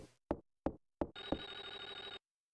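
A telephone rings in the horror game Clock Tower: Rewind, heard alone after three sharp knock-like thuds as one sustained, bright electronic ring lasting about a second.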